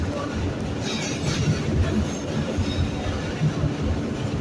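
An R160A F train runs in New York subway service toward Jamaica Center via the E line, giving a steady, loud rumble of wheels and car noise with faint squeals.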